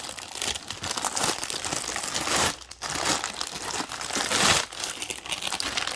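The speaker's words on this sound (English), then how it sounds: "I'm going to go ahead and take off that plastic bag." A plastic bag is pulled off a Turtle Beach Stealth 600 Gen 2 wireless gaming headset, giving loud, continuous close crinkling and rustling with a brief lull midway and no speech.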